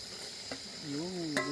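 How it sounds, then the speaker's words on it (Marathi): Chicken pieces fry in boiling oil over an outdoor wood-fired stove for a village biryani, a soft steady sizzle under faint background voices, with a couple of brief clinks. "चिकन टाकलंय बघा उकळत्या तेलात मस्त पैकी"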